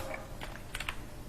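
Computer keyboard typing out a line of Python code: a short run of quick, light key clicks, close and fairly quiet, with no voices.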